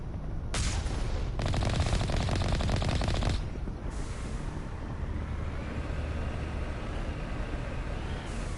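Rapid automatic gunfire in the video game Mass Effect 1, a dense burst of shots followed by a longer sustained rattle that fades into a lingering low rumble, with no speech over it.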